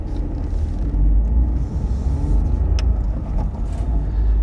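A car cruises along a road toward Wetherby, heard from inside the cabin as a steady low rumble of engine and tyre noise, loud and continuous.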